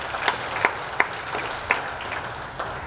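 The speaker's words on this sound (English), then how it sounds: "That deserves a round of applause." An audience at an MMM South Africa anniversary party claps after a remark about Bitcoin, with moderate, fairly sparse applause and a few sharper individual claps standing out.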